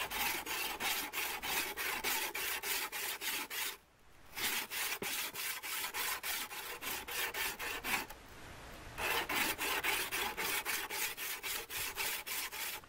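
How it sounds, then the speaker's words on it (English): A diamond sharpener rasps back and forth along the Scandinavian grind of a Habilis Trapper knife blade in steady, rapid strokes, close and loud, pausing briefly twice before resuming. "tilt it to the Scandinavian grind like this, and rub it back and forth."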